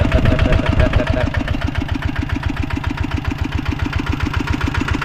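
A Kubota ZT tractor diesel engine idles close by in a loud, steady, rhythmic chug, the even beats pulsing continuously with a slight change in tone early on.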